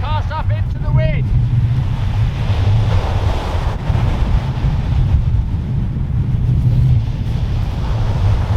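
Wind gusts roar across open water at a fishing spot, a loud, steady buffeting hiss over lapping waves, with a short high whistle early on.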